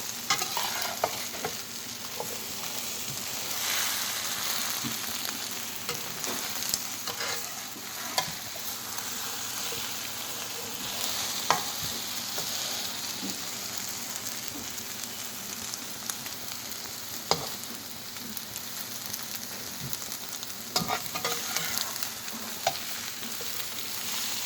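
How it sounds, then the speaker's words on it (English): Scrambled egg with vegetables fries in a pan with a dense, rain-like sizzle, while occasional scrapes and taps mark the mixture being flipped and turned at irregular intervals, close and steady. "I keep flipping it to get the vegetables cooked."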